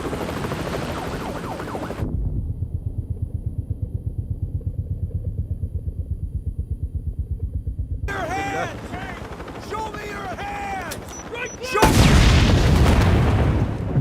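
A loud, broadband explosion from a man blowing himself up in a film scene, erupting near the end after a stretch of rhythmic rotor-like pulsing and clattering action sounds.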